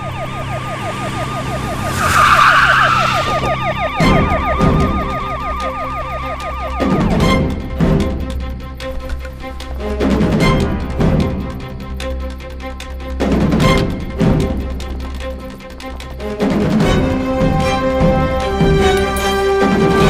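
Police siren wailing in a Tamil action movie scene, rising and falling loudly over a busy soundtrack with sharp hits and engine noise, with no talk.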